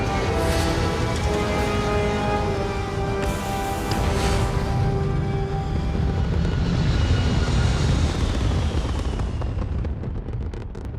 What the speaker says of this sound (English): We are cleared for liftoff.